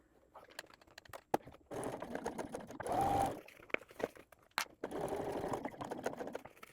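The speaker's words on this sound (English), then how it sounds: "We should be sewing in a straight line" Sewing machine stitching fabric in a straight line on a dopp kit project, short bursts of steady mechanical whirring broken by pauses and small clicks of handling, close and fairly quiet.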